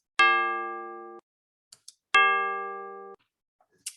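Two struck bells in turn, each giving a bright metallic strike that rings with a steady sustained tone for about a second before stopping, their pitches slightly different, with small clicks between the strikes.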